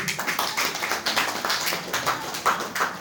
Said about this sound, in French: applaudissements encore pour le maire